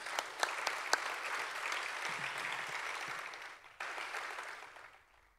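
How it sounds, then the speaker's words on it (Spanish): An audience claps at a folklore festival gala: a few sharp early claps swell into sustained applause, which drops briefly, resumes and then fades out. The sound is moderately distant. "Un aplauso para ellos."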